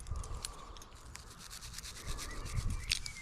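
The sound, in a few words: cleaning a dug-up metal find by rubbing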